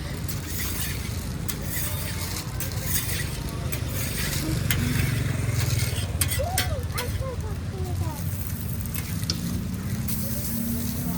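Chicken and beef burger patties fry at a Malaysian street food stall, a steady background sizzle under street noise, with people talking nearby.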